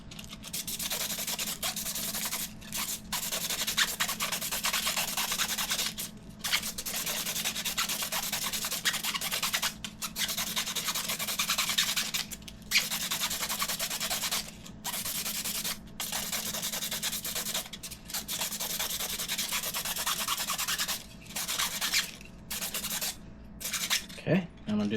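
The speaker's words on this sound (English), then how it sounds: "Okay, sandpaper again." Sandpaper rubbed against a 3D printed RC car part for a Traxxas 2WD, steady rhythmic rasping strokes close up, repeating with short pauses throughout.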